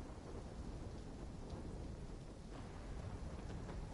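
A dense, steady roar of heavy rain and low rolling thunder comes from a storm in the Call of Duty Black Ops 3 campaign. The sound is continuous and even throughout, with no voices.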